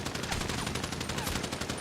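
Rapid automatic gunfire in a GTA roleplay video game crackles in a continuous, loud burst of closely spaced shots with no pauses.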